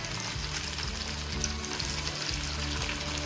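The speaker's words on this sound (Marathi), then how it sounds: "तर चला आपण आपले साबुदाणा वडे छान प्रकारे तळून घेऊया." Sabudana vada frying in oil over a low-medium gas flame, a steady dense sizzle and bubbling that runs without a break, close and fairly loud, with no talking.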